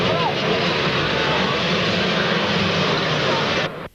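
Motocross bikes launching together at the start of an experts' race at Cwmythig Hill, a loud, dense, sustained engine roar that holds steady throughout and cuts off abruptly near the end, with commentary talking over it.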